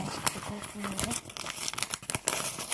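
Plastic packaging of a new Littlest Pet Shop toy crinkles and crackles in short bursts as it is opened up close, with someone talking over the rustling.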